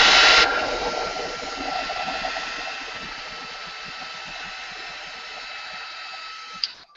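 A hair dryer blows at close range to dry paint on a canvas, starting as a loud rushing whoosh that quickly settles into a steady, softer whirring hum with a faint click near the end.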